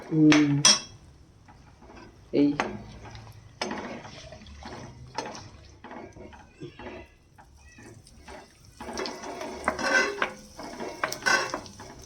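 A spoon scrapes and clatters against a metal pan while broad beans for pickle are stirred and fried with dried red chillies. The knocks come in bursts and the scraping stays steady and close.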